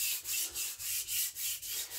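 A knife drawn rhythmically across a sharpening stone to set a new edge bevel, about eight even, close scraping strokes in a steady back-and-forth pattern.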